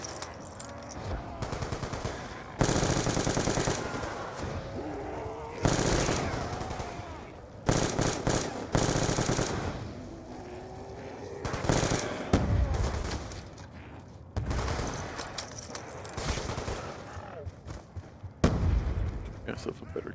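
Rapid bursts of gunfire from a weapon stronger than a pistol in a zombie video game, loud and close, firing in repeated volleys over about twenty seconds with short gaps, with a voice talking in between.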